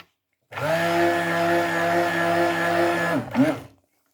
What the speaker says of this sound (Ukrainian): І все пробиваємо на блендері.